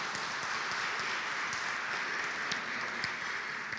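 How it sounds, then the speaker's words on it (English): An audience at an afternoon business forum luncheon applauds to thank the sponsor CIG. The clapping is a dense, steady patter that runs evenly and at moderate volume from start to finish, with no voices on top. "endorsement with an applause is good"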